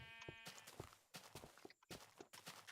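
Several sheep in Minecraft bleat in quick succession, a run of overlapping game bleats at close range with short gaps between them and no talking over them.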